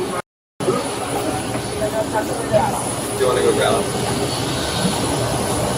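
Steady airplane engine drone heard from inside the cabin of a parked plane, a continuous broadband roar that runs under people talking nearby, with a brief dropout near the start.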